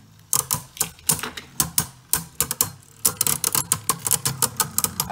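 Beyblade spinning tops clashing in a stadium, a dense run of sharp plastic clicks and knocks in irregular rapid bursts, loud and close, with no talking.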